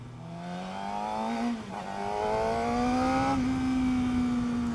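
A Suzuki GSX-R600 600cc supersport motorcycle pulls away through the gears, its engine note climbing in rising sweeps with a brief dip at each shift, loud and close, with no talk.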